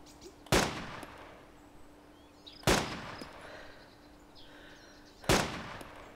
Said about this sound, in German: Ich schieße jetzt wieder.